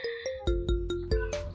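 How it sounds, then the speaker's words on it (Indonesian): An incoming call on a mobile phone sets off a ringtone, a bright melodic phrase of quick repeated electronic notes that is loud and close, with no voices over it. "itu ada telepon siapa?"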